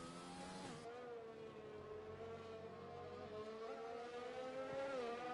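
Formula 1 race car engine in the F1 2020 video game at the Brazil circuit, holding a loud, steady high-revving whine that climbs gradually in pitch as the car powers uphill with a twitch of oversteer.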